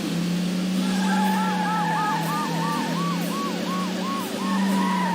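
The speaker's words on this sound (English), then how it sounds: "don't worry about the sirens." A wailing police siren in the racing video game Metropolis Street Racer cycles up and down repeatedly over a steady engine drone, fairly loud and continuous throughout.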